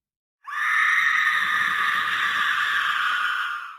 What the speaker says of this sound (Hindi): फिर उस हवेली से चीख की आवाज आई